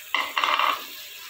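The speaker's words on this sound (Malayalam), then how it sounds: "ചതച്ച് വെച്ചേക്കുന്ന ഇഞ്ചിയും വെളുത്തുള്ളിയും പച്ചമുളകും കൂടി ഇട്ട് കൊടുക്കാം." Crushed ginger, garlic and green chili tipped into a pan for chicken curry, landing in two quick bursts of clattering sizzle close by, then fading into a quiet hiss.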